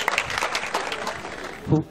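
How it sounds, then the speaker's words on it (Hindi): A crowd at a film promotion event in Vrindavan claps for a young singer, a short, fairly close burst of applause mixed with voices. "जोरदार तालियां इनके लिए, शाबाश"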